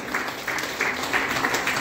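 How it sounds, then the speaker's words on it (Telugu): An audience applauds at a free beautician course event in Guntur, giving a steady patter of many hands clapping, fairly loud and sustained without pause. "ముందు వాళ్ళకి మంచి క్లాప్స్ తోటి"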